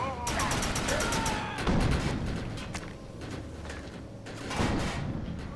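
Gunfire crackles in the video game Defiance, with sharp rapid shots in bursts near the start and again toward the end against a busy game backdrop, one voice speaking at moments between them.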